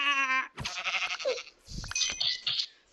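A goat in the Minecraft video game bleats once, loud and close, followed by a few short clinking and rustling game sounds.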